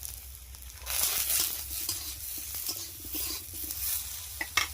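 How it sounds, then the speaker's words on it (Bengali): Eggplant frying in a wok with turmeric and salt, a steady close sizzle broken by scraping stirs that swell after the first second. "এই কড়ার মধ্যে এই বেগুনটা একটু ভেজে নেব"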